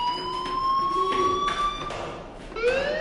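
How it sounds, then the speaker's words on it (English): A fire alarm in the video game Life is Strange wails in steady, sliding electronic tones, fairly loud and continuous, with a rising sweep near the end. "do you hear that fire alarm?"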